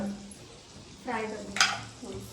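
Soft sizzling of eggs frying in butter on a griddle pan at home, faint and close, with a brief louder spatter, over a quiet background.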